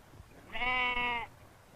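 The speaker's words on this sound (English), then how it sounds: "this land where no man goes makes a happy pasture for the bleating goats" A single goat on the island of Favignana gives one short, clear bleat, alone against a quiet outdoor background.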